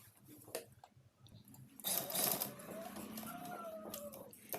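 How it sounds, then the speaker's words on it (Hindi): A sewing machine stitching a kameez in a boutique runs in a whirring burst for a few seconds after some scattered handling noises, close and fairly loud with no speech. "ये हमारी जो है सिलाई मुकम्मल हो गई।"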